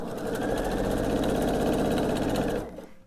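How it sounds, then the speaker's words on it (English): Quilting sewing machine stitching a long quilt top seam point to point, a steady close mechanical whir with rapid rhythmic needle clatter running nearly three seconds before stopping abruptly. "So I sew to that intersection, and then I sew to that one, and then I stop, and then I sew to the next one."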